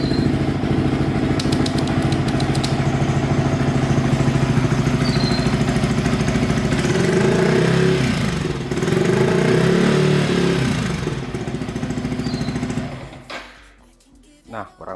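A Yamaha R15 V3 motorcycle with an R9 Misano exhaust and dB killer idles steadily up close, its low burbling drone continuous before fading out near the end, with a voice talking over parts of it.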